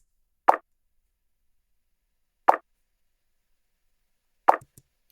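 Three short, punchy layered lofi snare hits spaced evenly about two seconds apart, each a dry isolated thud with a quick decay and silence between, the last followed by a tiny extra tick.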